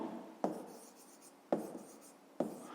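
Pen on paper jotting a math exercise, three brief scratchy strokes spaced about a second apart against a quiet background, close and soft.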